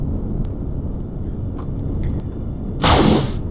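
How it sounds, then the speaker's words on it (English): Spaceship plasma cannon firing in the video game Empyrion Galactic Survival, one sharp bright burst over a low engine drone, with a few faint clicks before it. "That's my plasma cannon on the go."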